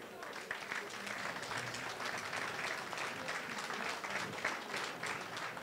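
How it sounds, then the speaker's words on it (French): A seated audience at the official launch event claps steadily in sustained applause for the Ivorian community, a dense even patter throughout with voices faintly mixed in underneath. "qu'on se lève et qu'on applaudisse un peu la communauté ivoirienne"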